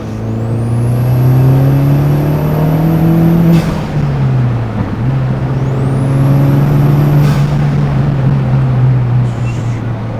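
A VW Golf with a 1.8T engine swap revs hard twice, its loud intake roaring and a turbo-like whistle rising then cutting off with each rev, close and continuous.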